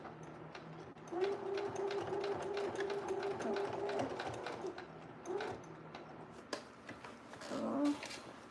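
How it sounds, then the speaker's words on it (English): Sewing machine stitching denim shorts, a steady mechanical whirring run near the mic that pauses and restarts, with light handling clatter around it. "I just gotta make sure that I am not sewing down on the leg."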